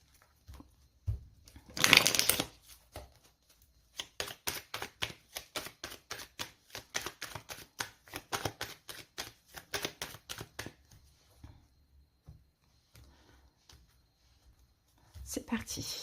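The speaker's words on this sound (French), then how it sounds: "On va poser 11 cartes." Tarot cards being shuffled and laid out for a reading: a brief rustle, then a steady run of crisp, evenly spaced card snaps for several seconds, close and quiet, with a final rustle at the end.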